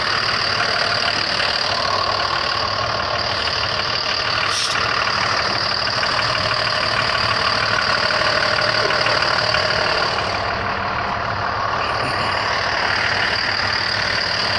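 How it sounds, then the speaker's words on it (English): A school bus diesel engine idles with the hood being closed, a loud, steady rumbling drone with an even mechanical knock that runs unbroken, easing slightly near the end, with no talk. "Listen to that diesel purr."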